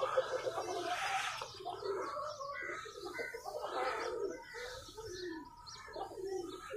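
Flock of pigeons set loose outdoors, with soft cooing and scattered chirps rising and falling in irregular bursts over a faint low background hum, moderately close and without speech.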